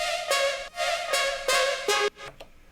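A bright, reedy synth lead plays a short melodic phrase of sustained notes with sliding pitch, ending in a few quick clipped notes.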